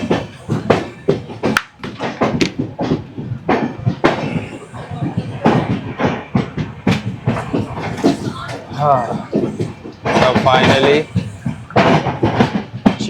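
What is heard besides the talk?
Janshatabdi Express train departing Chiplun station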